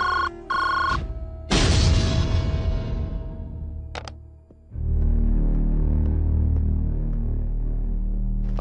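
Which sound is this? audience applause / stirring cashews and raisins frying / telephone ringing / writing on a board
telephone ringing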